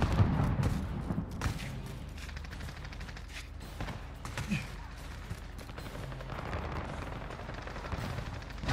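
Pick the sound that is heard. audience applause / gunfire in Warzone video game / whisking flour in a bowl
gunfire in Warzone video game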